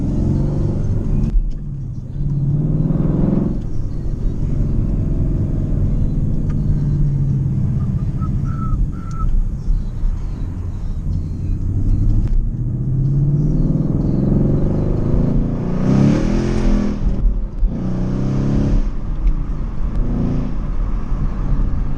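A 2016 Mustang GT with loud exhaust driving on cool roads on winter wheels, its engine rumbling steadily up close and swelling into several revving pulls.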